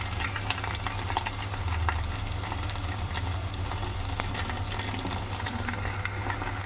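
Mutton curry with ginger garlic paste sizzling steadily in a pan, a continuous close crackle with a low background hum and no talking.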